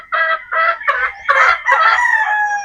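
Possum Sweater gamefowl rooster crowing close up, several loud harsh cock-a-doodle-doo calls in quick succession, the last one drawn out into a long ringing note.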